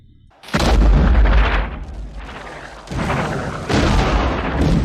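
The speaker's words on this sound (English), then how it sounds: "They're about to start another bombardment. It's almost like mortars" Heavy cannon booms from a film bombardment strike in quick succession, a loud blast followed by rolling rumbles and two more deep impacts, dense and close with no talking.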